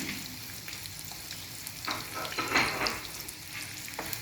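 Onion and green chilies sauté in ghee with cloves for ghee rice, giving a steady soft sizzle with brief stirring scrapes near the middle, close and fairly quiet, with no talk.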